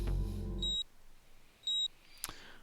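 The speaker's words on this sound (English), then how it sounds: "A tiny beeping sound caught Kano's attention." Two tiny electronic beeps from a PDA in the video game 428, short high tones about a second apart after a fading musical tone, clear and alone with a faint click at the end.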